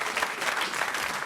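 A studio audience at a French radio comedy show applauds. The clapping is brief, fairly faint and continuous, lasting just over a second.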